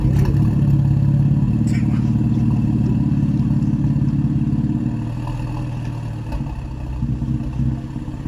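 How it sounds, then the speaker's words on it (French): A modified, ethanol-fuelled car engine fires up and runs at a loud, steady, lumpy idle close by, its deep rumble dropping slightly partway through, with a faint voice underneath. "Déjà, le son du démarrage, tu sens qu'il n'y a rien qui est d'origine là-dedans."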